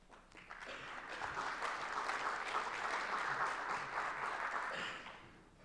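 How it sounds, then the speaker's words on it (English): A conference audience at a Microsoft tech event applauds after a product demo, steady clapping that swells quickly, holds evenly for several seconds, then tapers off near the end, with no talking over it. "I wonder if you guys are clapping for the 20 minutes we're giving you back"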